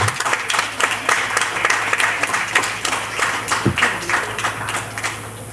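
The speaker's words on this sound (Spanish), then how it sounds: "Un fuerte aplauso" Steady applause from a crowd fills the room, many hands clapping continuously and evenly without pause.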